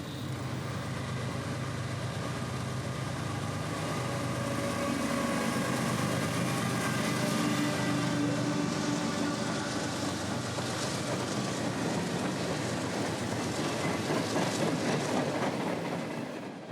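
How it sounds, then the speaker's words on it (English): A CSX freight train, M453, rolls along the main line at a distance, a steady rumble with rhythmic rail clatter that builds slightly and holds for the whole stretch. "hearing a CSX train somewhere out there on the main line"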